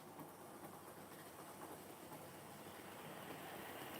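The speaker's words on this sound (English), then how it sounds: "going over the rail joints like that" A steady rolling rumble with faint clicking as model train wheels pass over rail joints, continuous and fairly quiet, with no voices.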